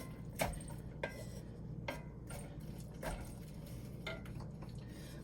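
A utensil scrapes and clinks against a cast iron pan while ingredients are mixed, several distinct metallic taps spaced about a second apart over a low background hum, close and fairly quiet.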